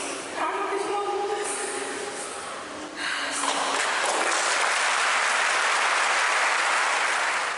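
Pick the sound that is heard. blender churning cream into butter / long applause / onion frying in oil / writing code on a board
long applause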